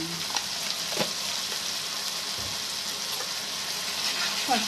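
Gongura and egg pachadi with turmeric being stirred in a pan, a steady sizzle of frying with a few soft spoon scrapes, close and continuous, no talk.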